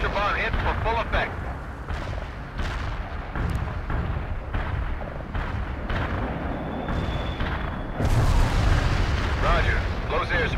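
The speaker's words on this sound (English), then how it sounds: "Heavy artillery barrage inbound" Heavy artillery barrage in the World in Conflict video game: a dense, continuous rumble of booming shell impacts and explosions, loud and close, with radio-style voices talking over it and a heavier blast surge near the end.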